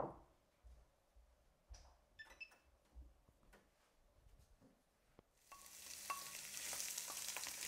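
After a few quiet clicks and utensil knocks, zucchini hits hot oil in a pan and a dense, close sizzle swells up and holds steady to the end.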